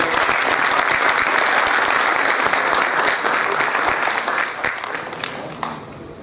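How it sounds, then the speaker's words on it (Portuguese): Audience applause at an official Brazilian heraldry award ceremony honouring a commander, a sustained crowd clapping that holds steady and then gradually thins and fades toward the end. "Nossos aplausos à senhora comendadora."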